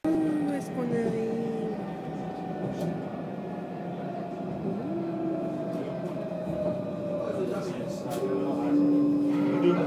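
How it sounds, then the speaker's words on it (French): Steady rumble of a Paris tram riding near Porte de Versailles, with continuous rolling rail noise, faint wheel squeals and a low hum throughout, voices murmuring faintly beneath. "On est dans le tramway."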